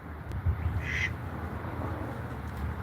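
A green-headed duck gives a single short, nasal call outdoors, sounding at a moderate distance over a low background rumble. Only one call is heard and no one speaks.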